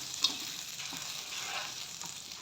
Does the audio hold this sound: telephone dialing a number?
no